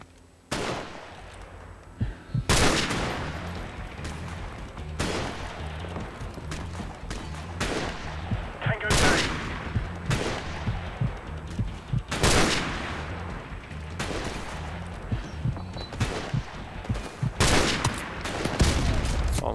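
Heavy gunfire in a Call of Duty 4 Modern Warfare Remastered campaign battle, a long run of loud close shots and bursts at irregular intervals, layered over constant rumbling combat noise.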